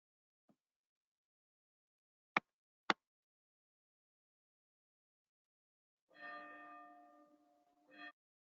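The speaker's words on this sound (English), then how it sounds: "you can hear the bell ringing" A bell rings at nine o'clock in short, separated strikes: a faint tap, two sharp clicks, then a sustained ringing tone and a final brief ring, heard alone over near silence.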